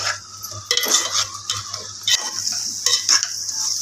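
Masala spices for a mutton potato curry are stirred in a cooking pan, with a metal spoon scraping and clinking in bursts over a low sizzle.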